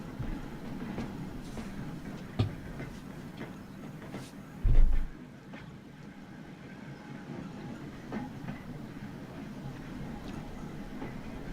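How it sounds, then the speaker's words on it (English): Trams in the Transport Fever game give off a steady rumble of rolling wheels with faint clicks and hiss. A couple of sharper knocks stand out before the noise settles to a softer, continuous hum. "That's 6 hot pink trams rolling"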